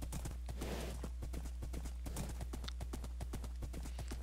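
A horse gallops quickly in a life-simulation video game, its hooves clip-clopping in a rapid, regular rhythm over a steady low background hum, fairly close and without any speech.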